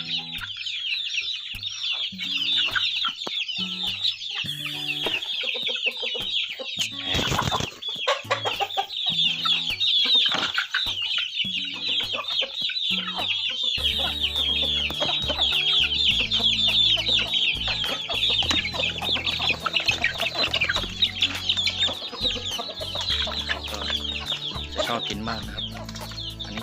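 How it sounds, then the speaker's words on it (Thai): A flock of month-old chicks peeps and clucks busily at feeding time, a dense, continuous high chatter close by, with someone briefly speaking. "นี่ก็จะเป็นลูกไก่เดือนกว่าของเรานะครับ"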